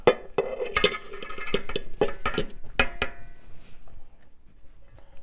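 Metal whisk clinking and scraping against a bowl while dry baking ingredients for homemade moon pies are mixed, a quick series of sharp clinks for about four seconds, then quieter handling.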